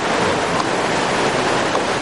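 Ocean waves at Laguna Beach heard from the rocks just above the water, a loud continuous broadband rush of surf mixed with wind noise, no distinct breaks.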